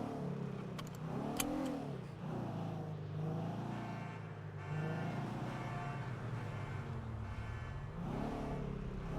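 A Lamborghini in a NoPixel GTA RP game revving its engine, the pitch rising and falling in repeated swells with a sustained mid-range roar, moderately loud and without talk.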